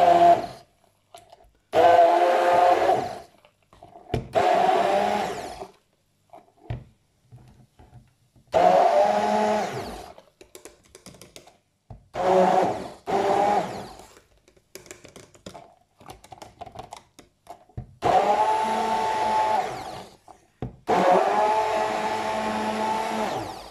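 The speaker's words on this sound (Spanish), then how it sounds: "Voy a echarle un poquito de agua para darle con la batidora" A kitchen blender purées parsley, garlic and water in repeated loud, close bursts of several seconds each, separated by short pauses.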